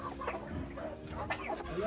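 Several chickens cluck close by amid a busy farmyard din on a farm in Silang, Cavite, their short calls overlapping over steady background noise.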